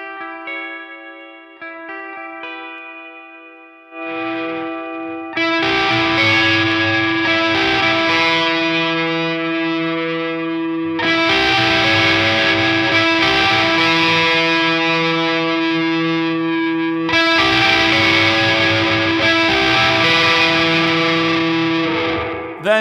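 Electric guitar run through a Walrus Audio Melee pedal with the distortion pushed all the way up and reverb added, giving loud, dense, saturated chords that swell in several sustained waves after a quieter opening, with a long washy tail.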